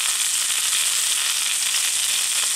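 Steak cooks in a pan with butter and thyme, giving a loud, dense, unbroken sizzle up close with no voices.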